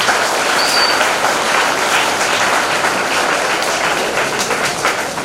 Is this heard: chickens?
no